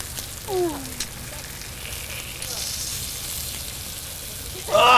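A full English fry-up sizzles in a pan at a British Goldwing motorcycle rally campsite, a steady soft crackle and hiss under faint background sounds, with a brief louder clatter near the end.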